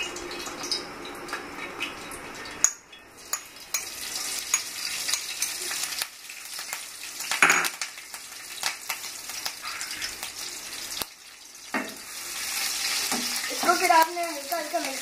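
Chillies sizzle and crackle in hot ghee in a pan, with steady frying hiss, occasional stirring clatter and brief quieter gaps, heard up close.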